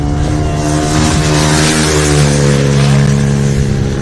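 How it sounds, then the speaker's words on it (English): A supermoto motorcycle at the 2024 North American Super Moto Shoot Out holds a loud, steady high-revving engine drone as the rider wheelies down the front straight, close and unbroken. "Good old Supermoto fashion there, riding a big old wheelie down the front straight"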